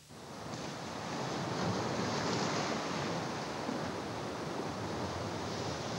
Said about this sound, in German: Mit hoher Brandung läuft das Nordmeer auf die flache, sandige Südküste Islands auf.